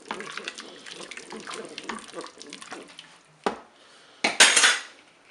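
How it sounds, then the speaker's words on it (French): Cornstarch being stirred into sauce inside a Cookeo electric pot, a run of close, quick spoon scrapes and clinks against the metal bowl, then a couple of louder knocks and a splashy burst near the end. "on va verser notre maïzena dans la cuve du Cookéo. On va mélanger tout ça."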